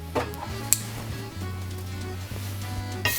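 Lamb chops brushed with olive oil sizzling on a grill over a medium-to-low flame, a steady soft hiss with a low hum and a few light clicks from handling.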